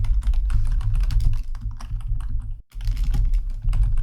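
Steady, fast typing on a computer keyboard while coding a JavaScript clicker battle game, close clattering keystrokes with one brief pause partway through.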